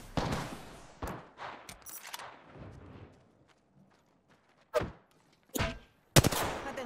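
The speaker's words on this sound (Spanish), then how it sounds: "Atención, me están disparando." Gunfire in the battle royale game Apex Legends comes in sharp, loud bursts, a run of shots at first, then isolated cracks after a lull, ending with a heavy close blast.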